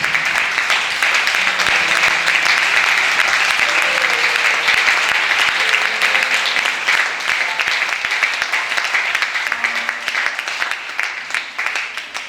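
A church congregation applauds and cheers to acclaim Jesus, a dense, sustained wall of clapping that fills the room and holds steady before tapering slightly at the end, with no talk over it.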